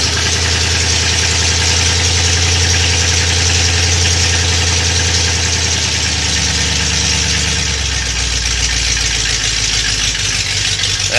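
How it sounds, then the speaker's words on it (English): A 1988 Ford Bronco engine with a carburetor holds a steady warm-up idle of about 900 rpm, a loud, close, continuous rumble with a faint knocking pulse and a slight drop in pitch partway through; no talking. "That's warm-up idle right there."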